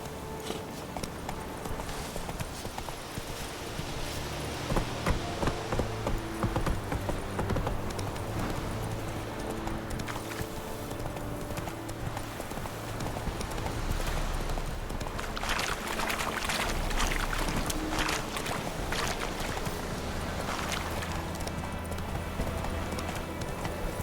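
Hooves of Roach, the horse in The Witcher video game, clip-clop steadily and close for a long stretch, with a denser, splashier burst of hoofbeats partway through and game ambience underneath.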